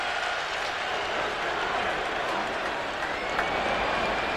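A dense, steady roar of baseball fans at a stadium during a 1999 NLCS game between Atlanta and the New York Mets, a continuous crowd wash with no distinct voices.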